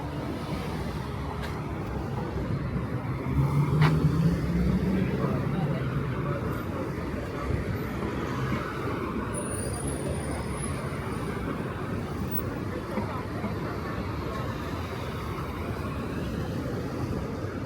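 A steady roar of New York City street traffic on a Saturday morning among scaffolding, with engines rumbling and vehicles passing close, and one louder surge partway through.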